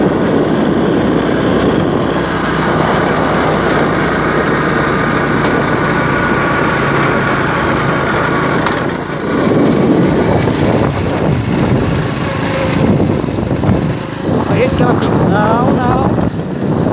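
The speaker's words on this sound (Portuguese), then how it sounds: "a moto tá meio acelerada" Motorcycle engine running with a raised idle, a loud close steady drone throughout, with someone talking over it near the end.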